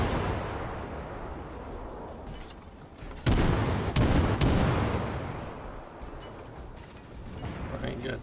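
Ship guns fire from the Storozhevoi in the naval video game World of Warships: two heavy, close booms about a second apart rumble out over a low engine drone, with someone talking around them.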